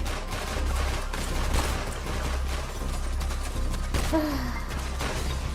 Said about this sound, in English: Don't these gunshots sound good?